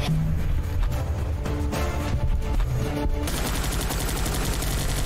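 Soldiers' gunfire in the video game Guns Up!: a dense, continuous fusillade of rapid shots and bursts that stays loud from start to finish, with no talking.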